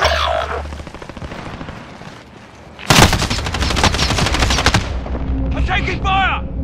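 Call of Duty: Modern Warfare gunfire, a loud rapid automatic burst of about two seconds after quieter crackling shots, followed by a voice calling out near the end.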